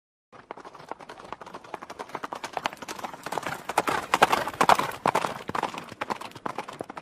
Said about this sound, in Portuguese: O cavaleiro preto galopava sobre a terra.